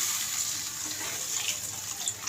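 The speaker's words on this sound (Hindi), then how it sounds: "पानी हमने इसमें डाल दिया है।" Water pours steadily into a cooking pot of fried rice and peas for matar pulao, a continuous soft splashing rush, close and fairly quiet, with no talking.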